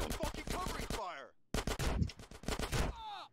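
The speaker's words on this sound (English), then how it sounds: "Give me some fucking covering fire." Rapid gunfire in GTA San Andreas, two dense bursts of staccato shots, loud and close, each ending in a ringing, warbling echo, with a short silent gap between them.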